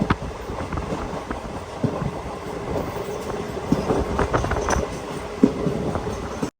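Passenger train pulling into Nagapattinam railway station, a steady rumble of rolling wagons with scattered clicks and clanks from the rails, fairly loud and continuous throughout, with wind buffeting the microphone and no voices.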